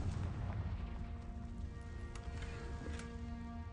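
Confringo fire spell blasts in Hogwarts Legacy, a dense, steady roar of explosive rumble that fills the whole moment loudly, with a few sharp crackles riding on top.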